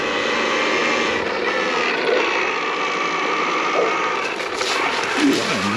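KTM FreeRide EX-C electric dirt bike riding a dirt trail, a steady high motor whine with continuous rushing noise from wind and tires, fairly loud and close, no talk.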